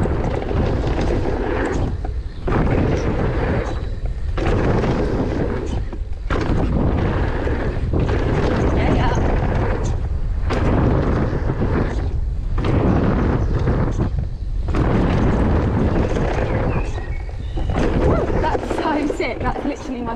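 Mountain bike dropping into a dirt jump trail, recorded from a chest-mounted GoPro: constant loud wind roar and rushing tyre rumble, broken by repeated thumping landings and brief dips as the rider pumps through the jumps.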